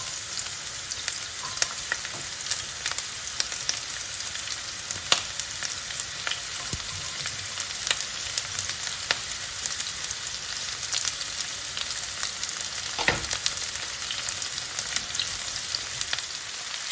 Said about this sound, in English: And while the onions are cooking